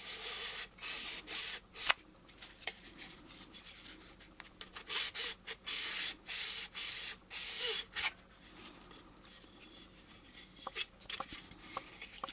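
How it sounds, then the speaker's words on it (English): Short bursts of sandpaper rub against the plastic hull of an AMT U.S.S. Enterprise model kit, close and fairly quiet, coming in quick back-and-forth strokes with small pauses between them. "I'm going to sand along here"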